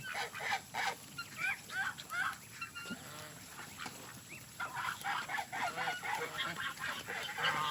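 Geese honk in repeated, overlapping bursts, fairly close but faint overall, with a rhythmic run of calls building toward the end.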